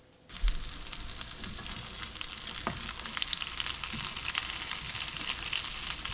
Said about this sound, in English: we're gonna saute it on each side until it gets golden brown